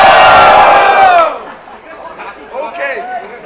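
A crowd at a rap battle in Itaquera, São Paulo roars loudly for a rapper, then the cheer fades within a second or so into lower chatter and scattered shouts.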